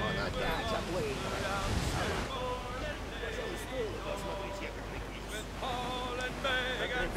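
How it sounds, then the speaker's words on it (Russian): Ocean waves and wind rush steadily around a sailing ship in Assassin's Creed 4 Black Flag, with a continuous low wash and occasional surges while someone talks over it. "Ох, хорошо, кораблик-то качается на море прям."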